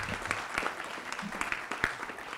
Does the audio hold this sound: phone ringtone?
no